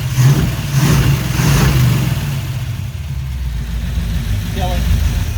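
A 1974 Oldsmobile Omega engine runs at a steady idle with a slight clatter, a close mid-pitched rumble that briefly swells, with people talking over it for much of the time.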